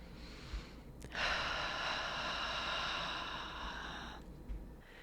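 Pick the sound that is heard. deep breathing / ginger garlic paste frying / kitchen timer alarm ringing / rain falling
deep breathing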